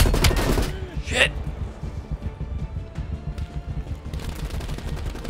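Gunfire in Call of Duty Black Ops Cold War, dense bursts of automatic shots and thumping impacts, loudest at the start and end, with a voice talking in between.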